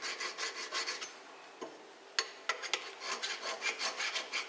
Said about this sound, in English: You want to sharpen on the back side of the flat.